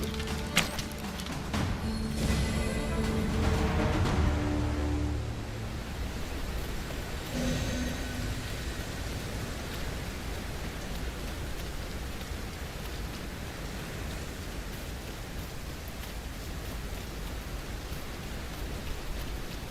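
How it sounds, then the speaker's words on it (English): Heavy rain pours in Dragon's Dogma 2, a dense steady hiss that stays even throughout, with a brief rumble and game sounds early on and no talk. "Must we do battle amidst this dreadful downpour?"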